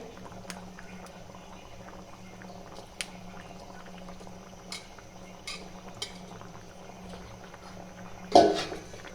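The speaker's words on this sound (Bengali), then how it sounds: "আর একটু রাখবো, একটু সিদ্ধ হোক, তারপর নামাই নেবো।" A pot of mung dal with a rohu fish head and slit green chilies simmers with steady, soft bubbling, a few light clicks, and a louder clatter of utensils near the end.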